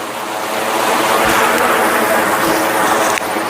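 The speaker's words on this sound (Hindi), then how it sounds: "कितनी कलकल बहती हुई धारा," A river stream at Choral near Indore flows steadily, its broadband rushing water sound loud and continuous throughout with no speech.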